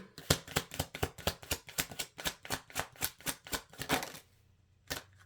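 Tarot cards are shuffled in a quick run of crisp riffling snaps, about a dozen in steady rhythm, then a pause and one last flick.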